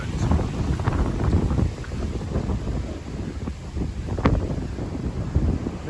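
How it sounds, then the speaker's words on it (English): A strong gale at a beach in Alcudia buffets the microphone with heavy, gusting rumble, rising and falling in loud blasts throughout, and a brief sharper gust near the end. "We're definitely blowing a gale now."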